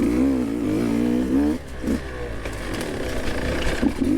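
A Beta 200RR two-stroke dirt bike revs hard in second gear, a loud, close, buzzing engine note that holds steady, then drops off and settles into a rough, lumpy idle with small blips.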